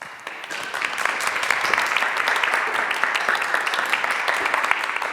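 An audience applauds at the Melbourne Music Summit 2022 opening night, welcoming Dr. Anita Collins to the stage: sustained, dense clapping from a large crowd that holds steady throughout with no break.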